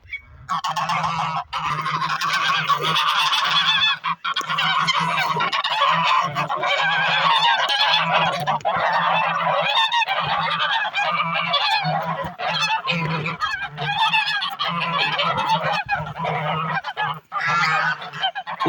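Geese in a village honk loudly and continuously throughout, a dense chorus of overlapping harsh calls close by with a steady low hum underneath.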